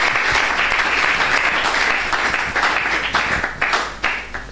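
A congregation in church claps and cheers for the Lord in a loud, continuous wave of applause that swells and then gradually thins toward the end.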